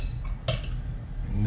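A utensil clinks and scrapes against a pot while food with Parmesan cheese is stirred, giving one sharp metallic knock among softer scraping sounds in a close kitchen setting.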